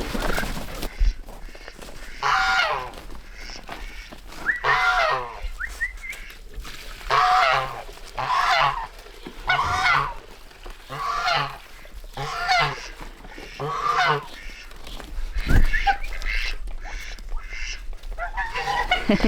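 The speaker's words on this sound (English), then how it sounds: "Get back inside, you ducks. Ducks everywhere." Ducks give repeated loud, honking quacks outdoors in bursts of calls, close by and filling the scene, with only brief human sounds between them.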